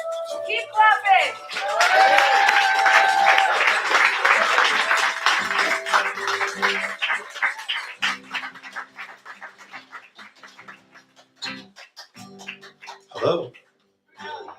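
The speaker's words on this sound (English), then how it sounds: "Keep clapping." Audience applause at an open mic during a celebration of life, with a dense burst of clapping and cheers that thins into scattered claps, mixed with whoops and a host talking.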